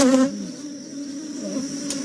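Honey bees buzz at a hive in a nuc yard, a close droning hum with one insect passing loudly near at the start, then a steadier background buzz.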